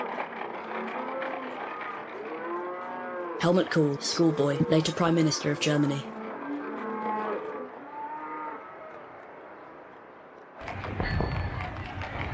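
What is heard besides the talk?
cows drawing ramshackle carts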